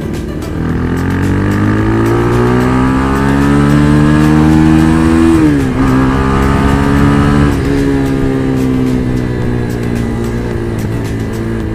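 A Motorstar Z200s motorcycle engine rises in pitch under acceleration on a test ride, steady and close, with a brief gear-shift dip midway before climbing again, loud throughout with no talk.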